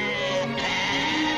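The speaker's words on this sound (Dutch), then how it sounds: "Een grote kudde ging 's ochtends in alle vroegte op weg naar het dorp." A large flock of sheep bleats in overlapping cries on an early-morning drive toward a village during a heather week in Ede, 1959, with the voices steady and close.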